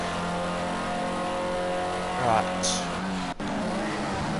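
A Formula C race car in an online racing league warms its tyres aggressively on track, its engine note droning steadily with a brief squeal and rev, while a commentator talks over it.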